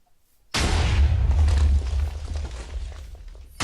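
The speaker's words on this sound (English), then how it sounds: "I hear explosions, but I'm not getting any damage" Explosions from elemental bending attacks in a Minecraft Avatar Last Blockbender mod: a sudden loud deep boom followed by sustained rumbling, crackling blasts that linger for about three seconds before another burst starts.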